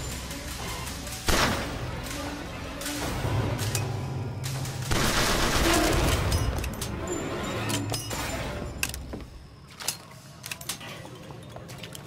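Sniper rifle fire in the video game BioShock Infinite, with heavy booming shots and cracks amid dense, noisy game action that fades toward the end, with no talking.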